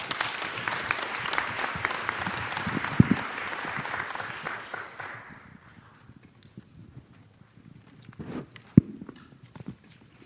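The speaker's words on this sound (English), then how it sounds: "Please welcome him with a big applause." Applause from an audience at a student research paper competition, a dense burst of clapping for about five seconds that thins and fades out, followed by scattered footsteps and light knocks in a quieter room.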